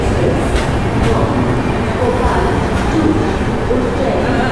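Rewanchal Express train running, heard from inside a general coach as a loud, steady rumbling roar with faint rhythmic clatter throughout.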